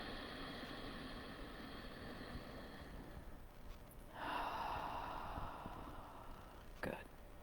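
A single deep breath is drawn during a quiet guided meditation. The soft, airy inhale swells around the middle, followed by a brief exhale, close up against near silence.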